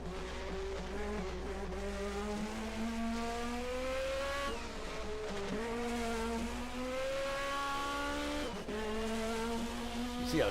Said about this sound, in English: Grant Riddall accelerating now